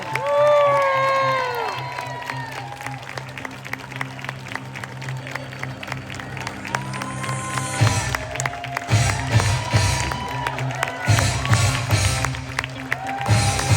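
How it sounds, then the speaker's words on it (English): Crowd at a Wake County Democrats family reunion gathering applauding and cheering for North Carolina Attorney General Jeff Jackson, scattered clapping with shouts and whoops, swelling louder and denser midway, with voices and some music heard through it. "Now let's give a big round of applause. Get up on your feet for Attorney General Jeff Jackson."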